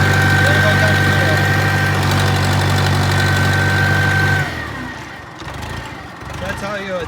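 A Case 580CK backhoe's diesel engine runs close by with a steady, heavy knocking drone, then abruptly drops to a quieter, rougher rumble partway through, with a voice talking over it.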